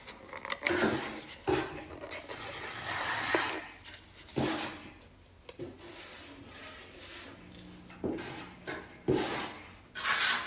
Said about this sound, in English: And then you're going to use your margin trowel.